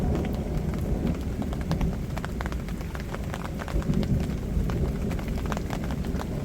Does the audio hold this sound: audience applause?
no